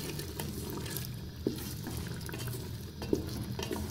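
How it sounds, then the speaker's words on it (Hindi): Mutton frying in cooking oil over high heat, stirred with a steady scraping and sizzling texture and two sharper knocks of the spoon against the pot. "कुकिंग ऑयल ऐड करने के बाद हम इसे अच्छे से भून लेंगे"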